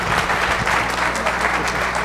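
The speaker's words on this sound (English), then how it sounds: "Again, a resounding applause for our consumer products." Loud, close applause from a conference audience at a branding panel, a thick continuous burst of many clapping hands with a faint murmur of voices beneath.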